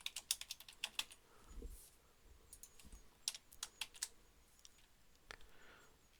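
Fast, uneven typing on a computer keyboard produces clusters of sharp clicks and taps with short pauses between bursts, close and fairly quiet in an otherwise silent room.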